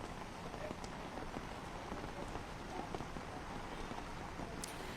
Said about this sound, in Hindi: भारी बारिश का दौर जारी है